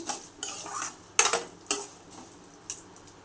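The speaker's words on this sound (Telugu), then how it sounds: "ఒక్క స్పూను జీలకర్ర ఒక్క స్పూను ఆవాలు వేసుకొని బాగా వేయించుకోవాలండి" Cumin and mustard seeds fry in a pan while a metal spoon stirs them, with sharp clinks and scrapes in irregular bursts over a faint sizzle.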